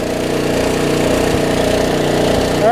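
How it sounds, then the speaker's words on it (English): A snow blower engine runs steadily in the cold of a Michigan March, a loud, close, rough mechanical drone with a constant rhythmic throb and no voices. "Alright, I'm gonna go do some snow blowing."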